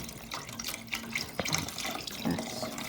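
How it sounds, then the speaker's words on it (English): Vegetable broth and water pour into a soup pot in a continuous splashing, gurgling stream, close and moderately loud, with small drips and clinks and no talking. "Now I'm adding the broth and the water"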